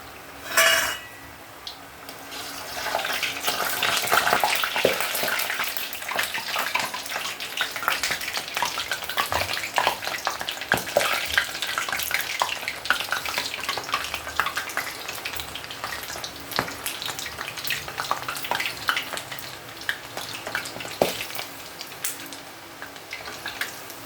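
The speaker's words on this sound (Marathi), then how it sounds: "आता ह्याच्यात मी एक एक एक एक चकली सोडत आहे. छानपैकी मी आता तळून घेते." Chakli dropped one by one into hot oil and deep-fried, a busy crackling fizz that swells after a brief quiet start and carries on steadily, punctuated by occasional utensil clinks, close and without talking.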